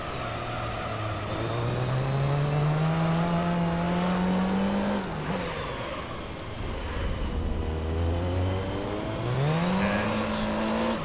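A race car engine in Gran Turismo 3 on a Japanese GT circuit, revving and shifting through gears with rising whines, a brief drop near the middle, then climbing again, steady and close with no talk.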